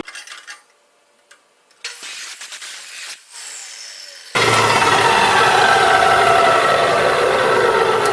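A high-speed cut-off saw fitted with a 90-degree jig cuts metal stock. Quiet handling clunks come first, then the motor spins up with a faint whine, and the saw settles into a loud, sustained grinding roar as it bites through.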